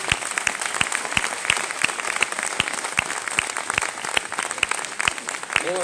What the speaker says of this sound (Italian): un applauso a Sara